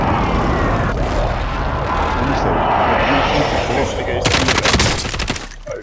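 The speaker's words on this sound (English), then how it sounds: "Be advised, friendly position airstrike inbound." Airstrike in Call of Duty: Modern Warfare, with a steady roar of distant explosions and rumble and then a sharp burst of loud blasts and gunfire near the end.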